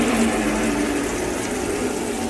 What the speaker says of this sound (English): So if I pour the water through,